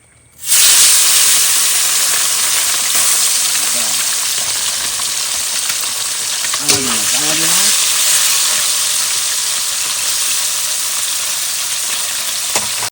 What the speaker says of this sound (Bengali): তেল গরম আছে এবার দিয়ে দেবো মাছ